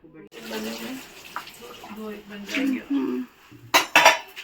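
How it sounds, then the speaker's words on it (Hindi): Dishes, cutlery and pots clatter during washing up in a home kitchen, with a run of light clinks and a few sharper, louder knocks near the end, while people talk over the clatter. "देखो राव्या ने मुझे काम करने लगाया, बर्तन धोने।"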